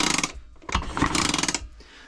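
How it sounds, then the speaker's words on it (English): A Vespa scooter engine being turned over slowly by its kickstart, giving a few mechanical ratcheting and clunking bursts that are close and fairly loud, with short pauses between them. "I've just kicked it over a few times."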